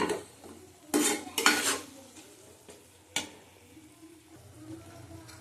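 Tomato masala sautéed over low heat in a pan for ghugni, with a spoon stirring and scraping against the metal in a few loud bursts over a soft, steady background sizzle.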